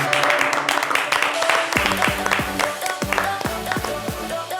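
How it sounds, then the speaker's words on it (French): Studio audience applause on a television basketball show as a guest arrives, clapping under lively voices and music, with rhythmic beats joining partway through. "qu'on va applaudir très très fort"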